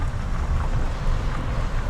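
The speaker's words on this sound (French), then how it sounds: "La grande cascade." Steady broadband rush of the Grande Cascade, a stone garden waterfall partly under restoration in a park, roaring continuously and fairly loud with heavy low-end rumble and no voices.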